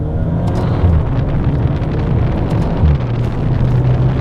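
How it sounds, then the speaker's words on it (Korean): Cabin recording of a Maserati Ghibli Hybrid GranSport on the road, a loud steady engine and exhaust drone with a whirring fan-like tone and brief pops as gears shift, with wind noise over it. "배기 쪽에서 이 팬 돌아가는 소리가 나면서 이 변속을 했을 때 팍 터지는 소리가 상당히 크게 좀 부각이 되는 특징이 있습니다"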